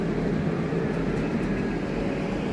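A Bombardier Itino diesel railcar pulls away from a station, giving a steady, broad rumble of engine and rolling noise with no voices over it.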